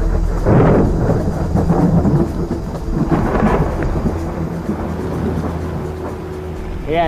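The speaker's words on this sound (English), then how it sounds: "I hope that this storm can bring some more water." Thunderstorm over a river where fishing is underway, with deep rolling thunder rumbles and steady heavy rain, loud and close, and no talking.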